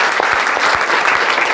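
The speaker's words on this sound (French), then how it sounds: "Applaudissez alors pour vos mains." A crowd claps loudly and continuously, a dense wash of applause throughout.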